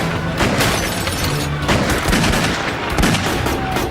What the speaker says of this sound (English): In the furious barrage of bullets, police aim carefully.